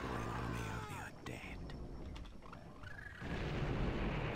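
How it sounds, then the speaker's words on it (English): Explosions in the video game Blood: Fresh Supply on a train level come as heavy low booms and rumbling blasts, with a loud burst near the end, and a voice talks over part of the noise. "Wait for the explosions"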